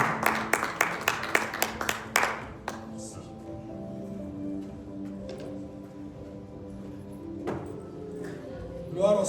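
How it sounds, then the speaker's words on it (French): A church congregation clapping during a prayer service: a quick run of sharp, rhythmic claps at the start, then sustained voices and singing-like tones taking over, with a burst of clapping rising again at the end. "can we clap for the Almighty God?"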